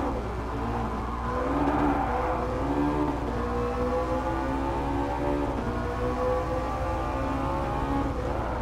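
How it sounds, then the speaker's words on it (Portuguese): A McLaren 650S 3.8 twin-turbo mid-engine V8 in a racing game drones continuously at high revs, its pitch rising and dipping smoothly as it accelerates and shifts, with no voices. "Deixei vocês ouvindo o V8 biturbo."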